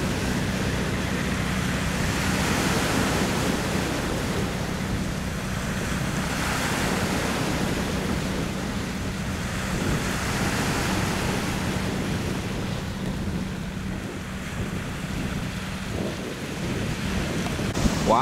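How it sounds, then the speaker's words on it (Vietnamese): Big sea waves surge and churn around a ship heading out to open water in a storm, a loud, continuous roar of surf mixed with heavy wind buffeting the microphone. "Sóng rất là lớn nha."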